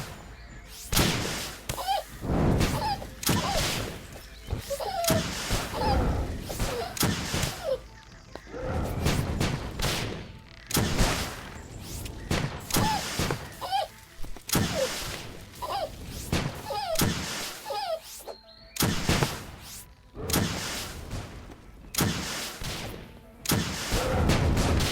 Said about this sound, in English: just keep firing rockets